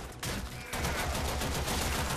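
Gunfire while shooting enemies in the game Warframe, a dense, steady stream of rapid shots over game background noise, no talking.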